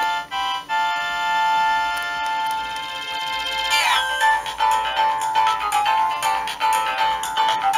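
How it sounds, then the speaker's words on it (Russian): Retro Nokia 1110 polyphonic ringtone playing a bright, steady melody of sustained electronic tones, loud and close, with the tune growing denser and busier partway through; no talking. "Вот это прикольный рингтон."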